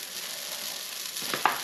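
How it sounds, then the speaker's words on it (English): Onions frying in a pan for coq au vin, a steady broadband sizzle throughout with a couple of brief clinks or stirring knocks near the end. "I'm going to put the onions in now."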